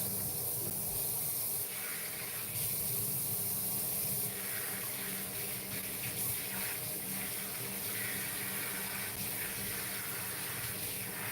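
Running water rinses shampoo out of natural 4c-texture hair, a steady, close hiss of spraying water that continues evenly throughout without talk.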